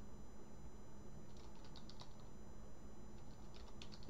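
Keys tapped on a computer keyboard while entering a hostname during an Arch Linux installation, in short irregular bursts of light clicks, close and quiet, with no talking.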